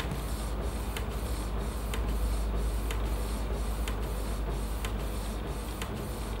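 Epson T50 inkjet printer printing a PVC card: a steady mechanical whir with regular clicks as the print head shuttles, roughly once a second, close and moderately quiet.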